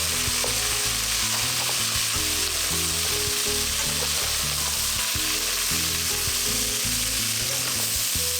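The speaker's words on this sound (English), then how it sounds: "Give the beans a good stir, incorporating the bacon and the beans well in the pan." Green beans and bacon fry in butter and oil in a pan, giving a loud, steady, close sizzle with stirring throughout and no voices.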